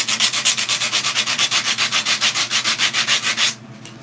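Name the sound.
rubbing wood against itself like sandpaper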